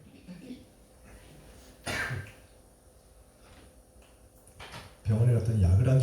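A man with a lingering cough coughs a few times in sharp, separate bursts during a Friday night church service. A louder voice comes in at the end.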